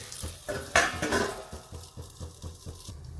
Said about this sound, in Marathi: आता झाकण ठेवते